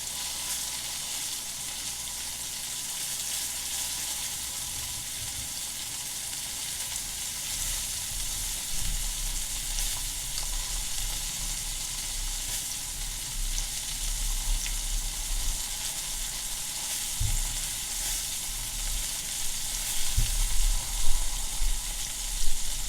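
Steady, loud sizzling of a T-bone steak frying in a hot cast iron skillet, a continuous crackling hiss with occasional louder pops and spatters, no voices.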